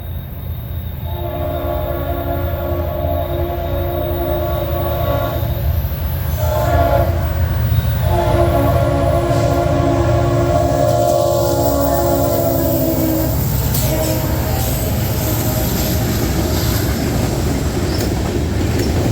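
Norfolk Southern NS 1065, the Savannah and Atlanta heritage unit locomotive, sounds long loud horn blasts over a heavy, steady rumble of the passing train, close and sustained throughout.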